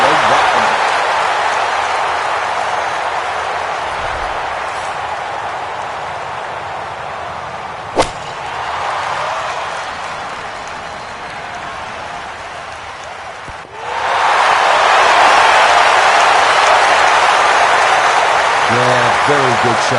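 Crowd applause in a PGA Tour video game round at TPC Scottsdale rises after a golf shot, swelling into a broad sustained roar that continues to the end, following a quieter ambient stretch with a sharp crack midway and commentary over it.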